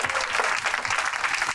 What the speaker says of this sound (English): So you guys need to give yourselves a big round of applause.